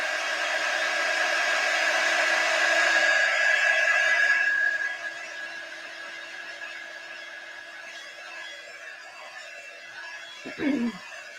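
A hair dryer blows steadily on freshly painted wood cutout pieces for a chalk craft project, a loud continuous whoosh that drops to a softer hum partway through before a brief knock near the end.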